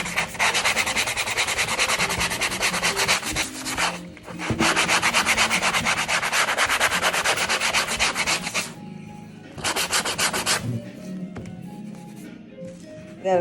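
Glitter is scraped off Dollar Tree decor in long, loud, close rasping strokes that run continuously, break briefly, and then resume before trailing off into a few lighter scrapes.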